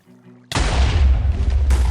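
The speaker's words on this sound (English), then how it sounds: "The explosion happened too soon." A booming Minecraft cannon blast goes off too early, a sudden loud explosion that bursts in after a quiet moment and keeps roaring with crackling rumble to the end.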